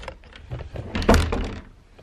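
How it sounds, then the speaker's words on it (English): A messed-up bedroom wardrobe door in a college room being moved, giving a loud close thunk and rattle against a low, muffled background. "My wardrobe door is like messed up."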